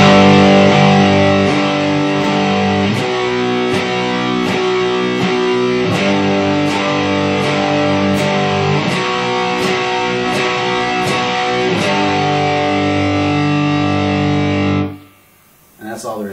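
Distorted electric guitar playing a power chord exercise, with chords struck in a steady rhythm and changing every few beats, loud and sustained before stopping abruptly near the end.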